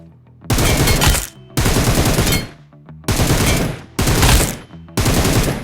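Assault rifle fire from an M4 with a 3x scope in PUBG Mobile, five loud sustained automatic bursts of about a second each, separated by short pauses, with no voices.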